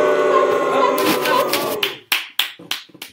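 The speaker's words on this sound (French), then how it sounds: "on l'applaudit très fort" Applause for a man invited up to be interviewed: after music and voices fade, a handful of sharp, close hand claps ring out in an irregular burst near the end.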